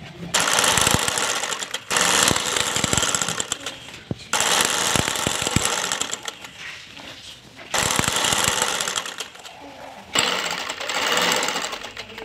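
Sewing machine stitching the lining of a fairy-style frock or maxi dress, loud rapid mechanical whirring in several bursts separated by short pauses.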